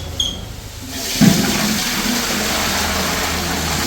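Tap water pours steadily into a large cooking pot being filled to boil rice for a big batch of biryani, a continuous close rushing stream that starts after a brief quiet moment and runs on without talk.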